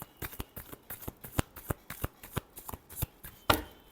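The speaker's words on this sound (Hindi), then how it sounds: "Last shuffle." Playing or tarot cards being shuffled for a weekly horoscope reading, a quick run of sharp riffling snaps in an irregular rhythm, close and clear, ending with a louder final snap.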